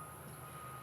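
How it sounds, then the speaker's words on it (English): Trains and machinery rumble beside railroad tracks in an industrial part of town, a steady low drone with a brighter hiss on top, continuous and even throughout the brief moment. "you could hear all sorts of trains and machinery"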